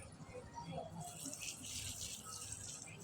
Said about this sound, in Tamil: பூச்செடிக்கு தண்ணி ஊற்றுறேன்.